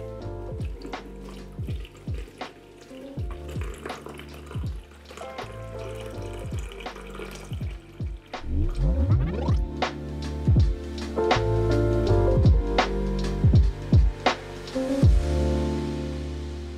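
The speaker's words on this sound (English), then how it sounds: "Let's siphon out that remaining dirt." Dirty water siphoned out of a neglected aquarium tank gurgles and splashes steadily, close up, with drips and bubbling pulses that grow louder and fuller midway through, and nobody speaks.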